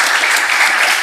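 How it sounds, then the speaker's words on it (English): Audience applause at a panel discussion on environmental struggles, a dense steady wash of many hands clapping at once, loud and even throughout the short burst with no voices. "we can give a round of applause to all the labs"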